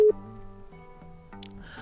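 A phone call rings out in GTA V as a steady electronic tone with repeating pulses, moderately loud and clear, with no voice over it.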